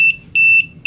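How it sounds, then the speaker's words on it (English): A Konig 1.0 gun safe alarm gives loud, piercing electronic beeps that repeat rapidly in an even on-off pattern, close by with no talk. "When you see that red blinking on there, you'll get that alarm."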